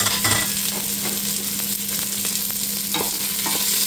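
Onions and other ingredients sautéing in a pan for Filipino chicken sopas: a steady, close sizzle with repeated stirring scrapes throughout, no voices.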